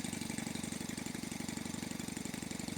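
A small Stuart Turner Sirius marine steam engine with two pistons runs steadily nearby with a fast, even chugging pulse and a constant mechanical hum, no voices.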